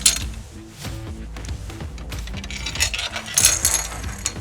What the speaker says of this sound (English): I'm going to slide in our 4 slider bolts to the outside channel here